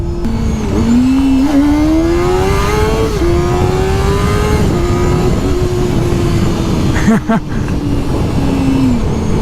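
A Honda CBR250RR sport motorcycle engine revs steadily and climbs in pitch, droning loudly and continuously up close for several seconds with a brief rough blip near the end.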